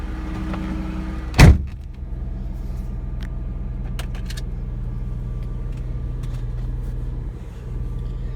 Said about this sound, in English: Shut the door all the way.